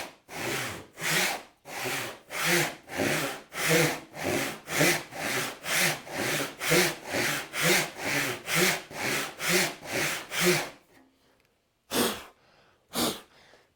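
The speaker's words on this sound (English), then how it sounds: "I'll start with maybe some shorter strokes right now, just to get that kerf established." A hand saw cuts short, rapid strokes into wood to start a kerf for a sliding dovetail. About twenty regular, rasping back-and-forth strokes come close and loud, then stop, and two more isolated strokes follow after a brief pause.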